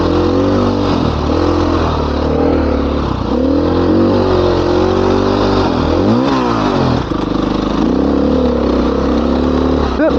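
Dirt motorcycle engine revving and labouring up Rampart Range Trail 662, steady loud drone with throttle surges and a brief rapid burst near the middle, close and continuous throughout.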